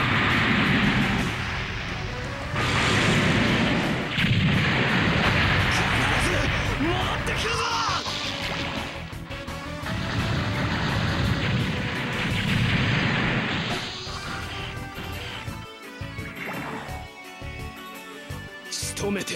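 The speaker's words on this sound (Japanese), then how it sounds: "ランチェカノーネ、発射！" Lanze Kanone cannon firing in Super Robot Taisen OG2, heavy booming blasts and roaring energy bursts layered over dense battle music, with a voice shouting at intervals.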